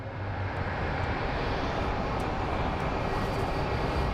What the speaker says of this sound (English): looks like the Volaris is finally starting to move